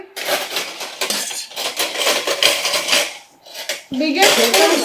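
A large spoon scraping and clinking against a plate while food is served, a busy run of close metallic clatter and knocks with a short lull before a final burst.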